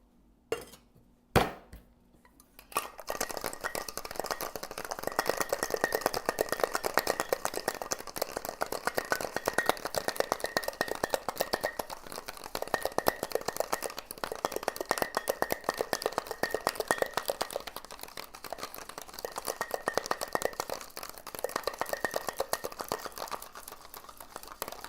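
Cocktail shaker full of ice shaken hard in an office, a dense, continuous rattling clatter of ice against metal lasting about twenty seconds after a couple of opening knocks.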